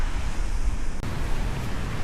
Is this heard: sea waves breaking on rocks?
yes